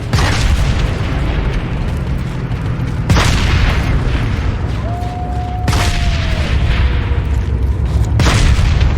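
Turret gunfire at a base in the Planetside 2 video game, loud rumbling booms over dense continuous battle noise, with heavy thumps about every three seconds and a brief rising whine midway.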